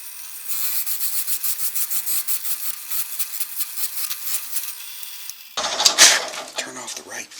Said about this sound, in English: I've never used a Forstner bit this big